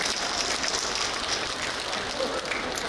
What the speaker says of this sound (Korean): 김유진 우리 아이 큰 박수 한번 해주시기 바랍니다